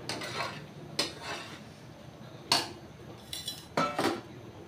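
A metal pot and plate clink and clatter as mango morabba is taken off the stove, with several distinct sharp knocks spread out over a soft background, close and moderately loud.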